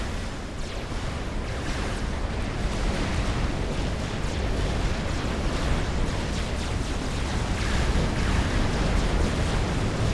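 An explosion destroys a T1 torpedo launcher in a Supreme Commander naval battle, heard as a dense, continuous roar of blasts and rumbling debris that stays loud throughout.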